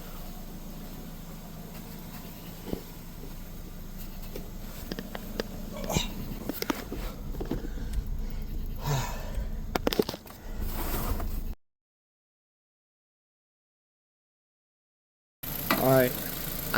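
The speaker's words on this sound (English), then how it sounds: "Listen to the motor." A 2006 Nissan Sentra engine idles after a water pump replacement and cooling-system burping, giving a steady, low, close rumble with occasional clicks and knocks, then cutting out before briefly returning.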